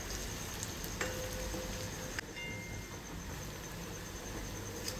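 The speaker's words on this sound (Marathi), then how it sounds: "काजू सुद्धा छान असे तळून झालेले." Cashews frying in oil in a pan for a fresh turmeric vegetable dish: faint, steady sizzle with a couple of light clinks, close and quiet, no speech.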